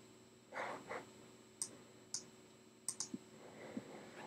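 Several sharp, quiet clicks from a computer mouse pressing a small gray button and a color dropper in a photo editor, arriving singly and in quick pairs over a low room hiss with some faint rustling.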